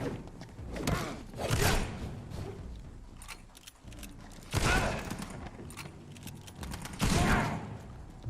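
Enemy shotgun fire in the Vampyr video game, three loud blasts spaced a few seconds apart, each a sharp bang with a short rumbling tail, separated by quieter mechanical clatter.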